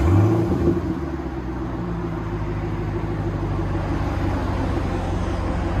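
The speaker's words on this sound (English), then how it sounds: "this is a Camaro SS 2012. This is with just a rear muffler delete and a regular resonator, factory resonator. This is what it sounds like." 2012 Chevy Camaro SS with a 6.2L V8, dual exhaust with rear muffler delete and factory resonator: a deep, steady idle rumble, loud and close, with a brief rev at the start settling into a constant throb.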